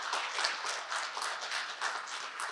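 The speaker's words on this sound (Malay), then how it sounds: "berikan tepukan sekali lagi" An audience claps at a Quran graduation ceremony, a moderately loud, continuous round of applause with clearly separate handclaps and no one speaking.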